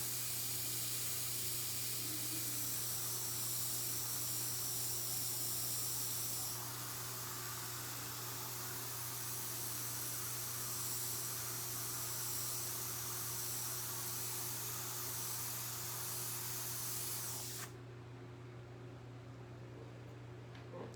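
An airbrush gun sprays in a long, steady, close hiss that runs for most of the stretch, then cuts off abruptly near the end, leaving a low background hum.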